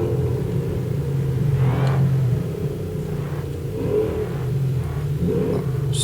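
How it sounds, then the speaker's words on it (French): An all-wheel-drive car drifting from the rear, engine droning steadily with rising revs and a low rumble, tire and motor noise sustained throughout at moderate loudness. "all-wheel drive, AWD, mais il drift de l'arrière"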